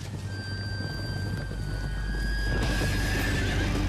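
Horses neigh in a documentary about Charlemagne and Frankish warriors on horseback, a high whinny heard over constant low wind-like rumble and ambient noise.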